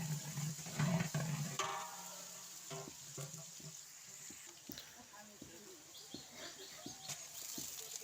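Onion and garlic fry in a pan for beef tehari, giving a steady wet sizzle with scattered clicks and scrapes of stirring at moderate loudness, slightly fuller in the first second.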